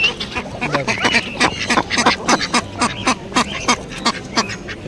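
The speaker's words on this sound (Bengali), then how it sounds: "পাতি হাঁস দেখাচ্ছি দেখো ভেতরে আছে" A close, rapid run of loud domestic duck quacks at a bird market, repeating in a steady rhythm, several birds calling over one another.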